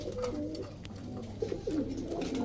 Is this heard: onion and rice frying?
no